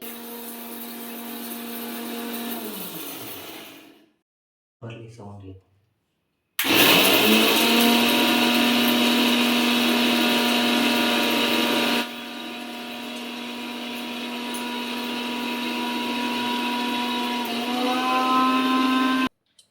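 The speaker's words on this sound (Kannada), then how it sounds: "ಬನ್ನಿ ಪುಡಿ ಮಾಡ್ಕೊಳಕ್ಕೆ ಹೋಗ್ತಾ ಇದ್ದಾರೆ ನಮ್ಮ ಮನೆಯವರು" A mixer grinder whirs loudly in long bursts while grinding spices to powder, stopping briefly and restarting, its steady motor drone filling the clip with no talking.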